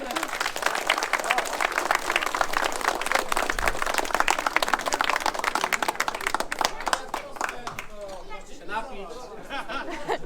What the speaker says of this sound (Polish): Brawa dla wszystkich!